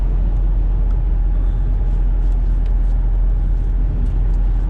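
A 2009 Ford F150 XLT idles steadily, giving a constant low rumble with a faint hiss above it and no talk.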